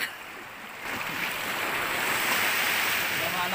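Ocean surf at Bato Beach on Polillo Island, Philippines, rushes and washes ashore in a continuous broad roar, with wind noise over the microphone.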